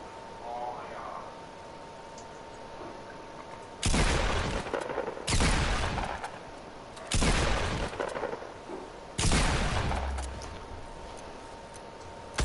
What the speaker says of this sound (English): He's shooting at me from top, bro.